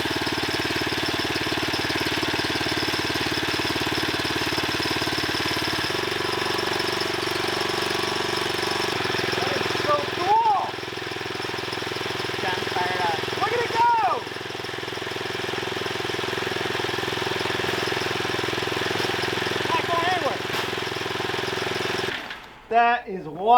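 A homemade trommel's motor starts up and runs steadily, a continuous mid-pitched engine drone with knocking, rattling texture that shifts partway through as the drum spins, with brief speech in the middle and a clunk near the end.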